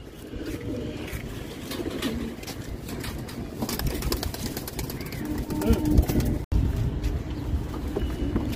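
Madras and Golden Eye pigeons in a pigeon collection, soft cooing under a busy, rumbling background with distant traffic and faint voices throughout.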